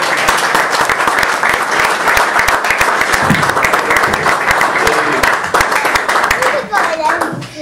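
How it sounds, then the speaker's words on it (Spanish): An audience applauds, a dense, sustained patter of many hands clapping, with a few voices rising near the end. "Un gran aplauso."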